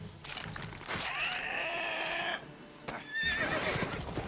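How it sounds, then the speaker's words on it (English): A horse in The Witcher 3 video game lets out a loud, drawn-out whinny, followed by a brief pause and a second shrill neigh. "Or there's like this massive warg eating this horse"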